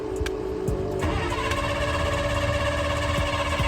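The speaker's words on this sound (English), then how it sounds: "Finally got it to crank, but it still won't start." Old school bus engine cranking without catching, a continuous loud, rough mechanical churn with a rapid rhythmic pulse that carries on for several seconds.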